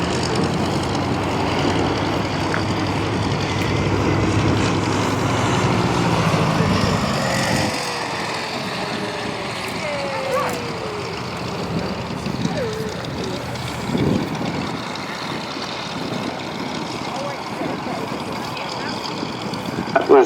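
A PBY-5A Catalina amphibian backtracks along a bumpy grass runway at the Shoreham airshow, its piston engines giving a steady distant drone with shifting tones, while a commentator talks over it throughout.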